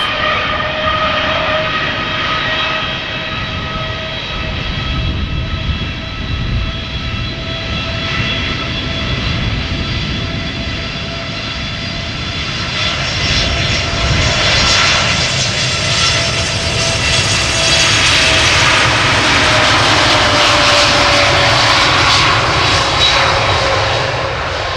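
A TUI jet airliner heading for Tenerife departs Amsterdam Schiphol, its engines roaring loud and close with a whining tone that swells and rises in pitch as the aircraft powers away.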